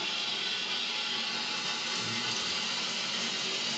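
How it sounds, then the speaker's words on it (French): Water runs steadily from a tap after the supply to a plumbing installation is reopened following a purge, a constant hissing rush that fills the whole moment with no pauses or voices. "Là on l'entend, c'est le robinet, parce que j'avais purgé l'installation"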